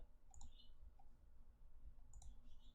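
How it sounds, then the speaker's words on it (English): Clicky keyboard typing during a casual live session, a few scattered key taps and short clattering bursts, faint against a low background hum. "I apologize if the keyboard noises are clickety and clacking"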